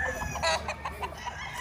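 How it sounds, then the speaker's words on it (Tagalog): A gamefowl rooster on a Philippine gamefarm lets out a quick run of clucks and short calls, close and clear against faint farm background. "Ito, napakagandang manok."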